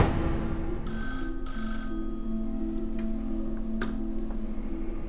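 A telephone rings steadily in a quiet room during a period spy drama scene, its electric bell tone repeating through the whole stretch with faint ticking beneath and no talk.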